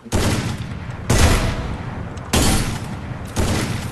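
Loud bursts of gunfire from a shooting video game, four heavy volleys each striking sharply and then trailing off in a rumbling decay, close and dominant with no voices over them.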